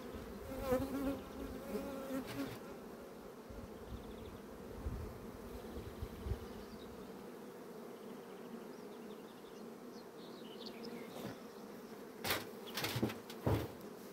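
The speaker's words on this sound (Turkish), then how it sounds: "Fakat arı katta yerleşmiş sanki. Poleni yukarı taşıyor." Bees buzz steadily around a beehive, a close, continuous hum with a few louder passes near the end, no speech.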